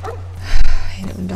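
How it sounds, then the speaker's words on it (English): Dogs in The Last of Us Part I give a short, loud bark amid whimpering noises, with some game sounds around it. "I hate it when dogs run."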